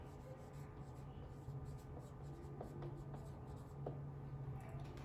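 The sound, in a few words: writing with a pen on paper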